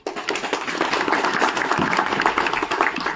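Loud, steady applause from a gathered crowd honouring a teacher at a school reunion, dense clapping that starts abruptly and holds for about three seconds.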